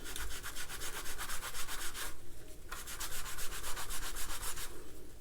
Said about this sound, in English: So I'm just gonna scrub this down